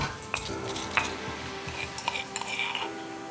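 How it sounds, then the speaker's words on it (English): Fried flounder crushed in a mortar and pestle, with its center bone removed, heard as close, irregular clacks, scrapes and grinding knocks against the bowl over a low background, no voices. "we'll crush the flounders in a mortar and pestle"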